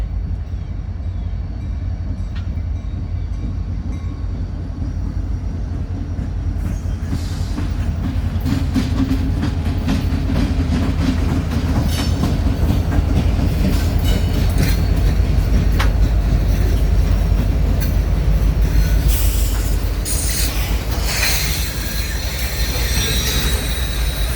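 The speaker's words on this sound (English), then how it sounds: "A04 would soon roll through Decatur with the right leader, SD40-2 NS6087, leading the freight train by Vine Street." A Norfolk Southern freight train led by an SD40-2 diesel locomotive rolls past at close range, with a steady low rumble, rhythmic clickety-clack of wheels over rail joints and sharper metallic clanks and squeals building toward the end.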